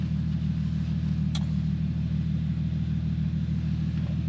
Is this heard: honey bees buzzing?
no